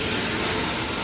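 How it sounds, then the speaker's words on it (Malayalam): A train runs near Tirunelveli Junction on a night journey toward Madurai, heard as a loud, steady rumble and roar, close and constant, with no voices. "ഒരു ട്രെയിൻ പോകുന്നുണ്ട്."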